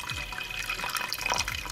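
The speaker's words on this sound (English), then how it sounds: "I'm just going to add about half a cup of water in here" About half a cup of water is poured into a Ninja Foodi cooking pot, giving a steady close splashing and trickling sound that runs unbroken throughout.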